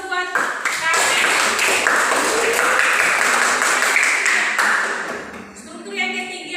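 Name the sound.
classroom applause for Carmen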